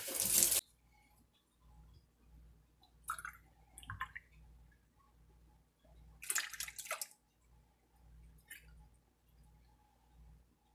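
Milk poured into pumpkin walnut waffle batter gives a short, soft liquid splash first, then a few quiet, scattered sloshes and drips with long hushed gaps and no voices.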